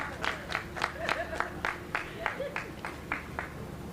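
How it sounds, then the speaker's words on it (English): At an outdoor Juneteenth flag raising ceremony, the audience claps in a steady, evenly spaced rhythm of about a dozen sharp claps, fairly quiet and distant, over a low background hum. "Give yourselves a round of applause."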